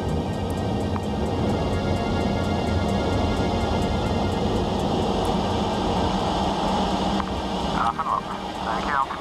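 Steady, loud broadband roar inside a Concorde cockpit during climb-out, constant throughout with a faint rise and some brief higher tones near the end.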